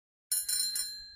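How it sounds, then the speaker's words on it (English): A bicycle bell rings out clearly in two or three quick bright dings that linger with a metallic ring, close and alone. "Bicycle."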